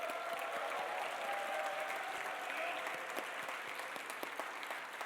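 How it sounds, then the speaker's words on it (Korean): Students fill a theological university chapel with steady, dense applause during an opening worship service, held at an even level for the whole stretch from start to finish. "우리 환성으로 박수 보내드리겠습니다"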